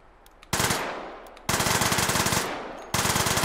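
An automatic gun in the VR shooting game Hot Dogs Horseshoes & Hand Grenades fires from a drum magazine in three loud rapid bursts, each a dense rattle of shots with short pauses between.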